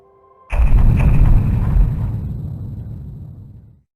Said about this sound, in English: 2 cannon shots can be heard in the distance.